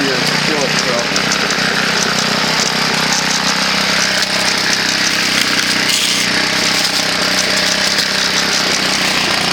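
A small two-stroke string trimmer engine runs steadily at a high buzzing pitch throughout, loud and close, with no pauses.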